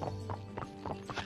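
A horse in the Barbie Wild Horse Rescue video game walks across a frozen lake, its hooves clip-clopping in a steady rhythm of about four close, clear beats with a faint whinny beneath.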